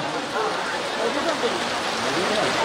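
Steady rain falls on a street during an outdoor political occupy rally in Malappuram, a dense, even hiss of drops on surfaces filling the whole moment at moderate loudness.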